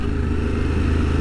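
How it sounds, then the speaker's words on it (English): Motorcycle engine revving hard during a clutch-up as the bike lurches forward, a steady loud, close roar with a rough, clattering mechanical edge and no voices. "feel that sensation of the bike really lurching forwards"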